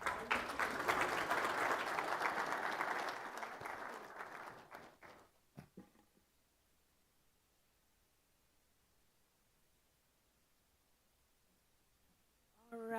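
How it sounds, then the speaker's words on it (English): A conference audience claps loudly for about five seconds, then the applause fades out into near silence before a voice starts up at the very end. "another round of applause for Sir Mike and Madame Healer."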